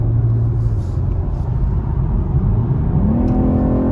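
Engine of a 2021 BMW M440xi in sport mode, a steady loud rumble that swells as the revs climb toward the end, heard from inside the car with no talking.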